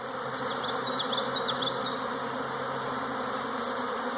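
A honeybee swarm surrounding the listener, a dense continuous buzzing with individual bees zipping close by, steady and fairly loud throughout.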